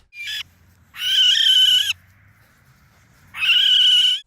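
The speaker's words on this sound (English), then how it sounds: "Seeing how the owl cried for help while looking at the recorder" A barn owl under attack by a small eagle after being knocked from a palm tree gives three loud, close, raspy screeching cries: one short, then two long, separated by near silence.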